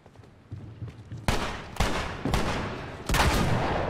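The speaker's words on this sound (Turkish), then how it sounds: "Tabancaymış bu." Pistol gunshots in the game The Last of Us, four sharp loud bangs spaced about half a second apart, each with a short decaying tail, after a quiet low rumble.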